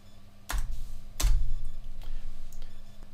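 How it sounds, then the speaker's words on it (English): Two clicks as an integer address is typed on a computer keyboard while setting a math-instruction preset, over a steady low electrical hum. "then what I do is I just type in an integer address."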